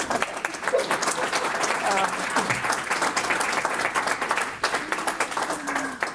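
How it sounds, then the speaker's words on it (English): Sustained applause from a crowd at a Chamber of Commerce economic forecast meeting, a dense steady patter of many hands clapping at moderate loudness for several seconds. "maybe just some clapping"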